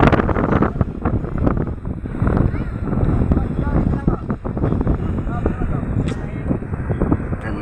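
Strong wind gusting outdoors in Tagaytay, buffeting the microphone with a loud, rough, continuous rush throughout.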